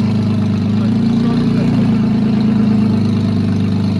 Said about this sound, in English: That is the loudest GTR idle I've ever heard.